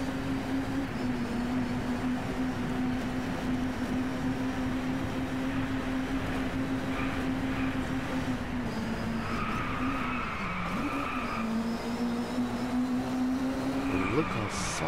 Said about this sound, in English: Look how fast this car goes.